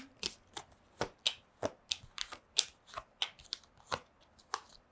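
Playing cards are handled and shuffled nearby in a steady series of crisp snaps and flicks, with no talking.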